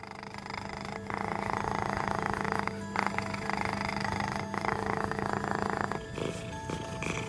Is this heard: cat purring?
yes